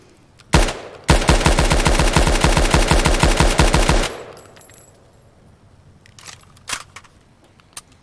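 Rapid string of close, loud gunshots from a .308 rifle at an outdoor shooting range, fired in a fast, even burst for about three seconds, followed by quieter background noise and a couple of faint clicks.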